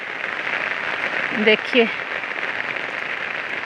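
Rain falling in Chhingchhip, Mizoram, a steady hissing wash of drops on surfaces filling the background while a person speaks briefly over it.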